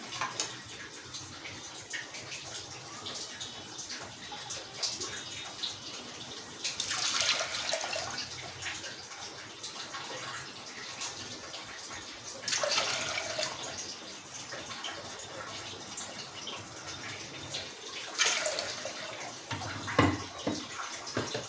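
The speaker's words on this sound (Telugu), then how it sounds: "ఇప్పుడు ఇందులోకి ఈ కప్తోనే 3 కప్స్ వాటర్ వేస్తున్నానండి" Water pours from a cup into a pressure cooker holding toor dal in three separate splashing pours spaced several seconds apart, close and fairly quiet, with soft handling sounds between them.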